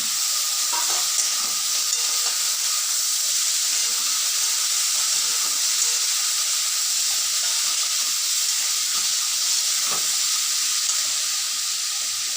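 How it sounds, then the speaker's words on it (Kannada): A pot of bisibele bath mixture with salt, capsicum and tomato bubbles and hisses steadily over the heat, with a few soft stirring scrapes, close and alone. "ನೋಡಿ ಕುದೀತಾ ಇದೆ"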